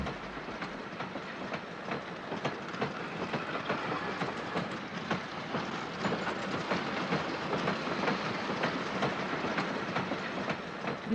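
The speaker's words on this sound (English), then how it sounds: "It then pushes the train up the second incline" A train rumbles steadily uphill on an incline, pushed by a locomotive at the rear, with a continuous rhythmic clatter of wheels, close and fairly loud throughout, with no voices.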